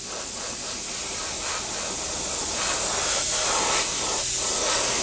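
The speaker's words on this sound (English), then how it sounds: "we can start putting on a nice" An airbrush or spray gun lays a misty, even paint coat over a 1/48 scale Messerschmitt Bf 109 model kit, producing a steady, close hiss that runs unbroken and swells slightly toward the end.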